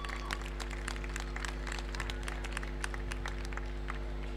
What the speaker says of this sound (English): Big round of applause for Shay.